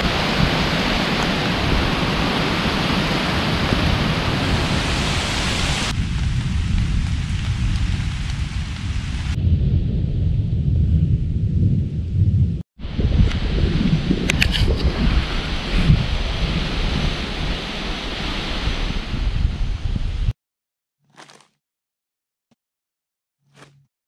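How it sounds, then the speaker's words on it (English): Loud wind roars and buffets for a long stretch, with a hiss of light rain mixed in, before cutting abruptly to near silence with a few faint taps. "It's not really raining that hard, believe it or not. It's just windy."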